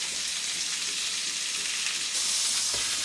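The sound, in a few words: pork filet mignon searing in oil in a frying pan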